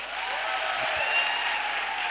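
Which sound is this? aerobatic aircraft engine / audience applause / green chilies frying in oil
audience applause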